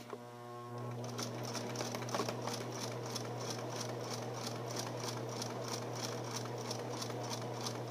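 A sewing machine stitches forward along the edge of fabric with its needle going back and forth, starting after a brief pause into a steady, fast, evenly pulsing mechanical chatter that stays close and moderately loud.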